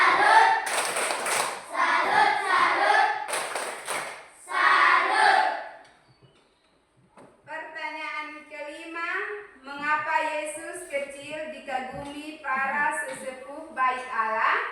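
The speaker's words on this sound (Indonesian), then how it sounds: "Ya, tepuk salut." Children and adults in a Sunday-school style group clap in a rhythmic applause routine, with bursts of patterned clapping between spoken and chanted call-and-response lines.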